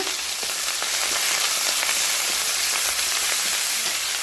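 Ginger paste and onion paste hit hot oil with chopped garlic and green chilli, hissing in a loud, continuous sizzle close by, broken by faint ticks and pops as the pan is stirred; there is no talking.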